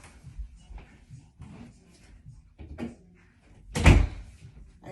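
A door is shut with a single loud thud near the end, after a stretch of quieter shuffling and movement sounds.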